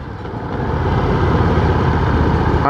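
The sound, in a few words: Ducati Diavel motorcycle engine running choppy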